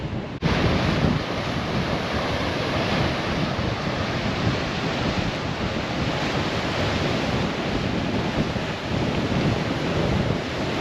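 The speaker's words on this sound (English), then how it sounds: "the wind is just insane. And the swell out there is pretty choppy" Strong wind buffets the microphone over choppy ocean swell and surf at Somerset on Cape York, a steady loud roar of wind and breaking water throughout.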